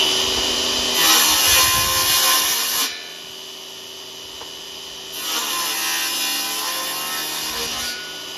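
Wood pieces fed through a power saw cut for a solar fox arcade build, with two loud steady passes of whining cutting noise over a constant motor hum that drops between them.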